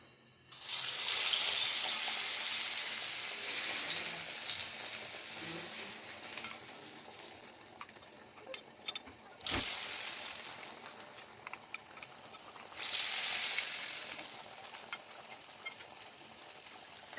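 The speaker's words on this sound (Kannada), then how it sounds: "ನೋಡ್ಬೋದು ಎಷ್ಟು ಚಂದ ಫ್ರೈ ಆಗ್ತಿದೆ ಅಂತ ಹೇಳಿ" Momos sizzling in hot oil, a loud bright frying hiss that swells at the start, slowly fades, then flares up twice more as pieces go in or get stirred, with no talking.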